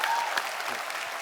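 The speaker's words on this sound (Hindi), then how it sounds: "इन सबके लिए एक बार जोरदार तालियां बजाएं।" A television comedy show's studio audience breaks into applause, a dense, even roar of many hands clapping that holds steady and fills the room, with no speech on top.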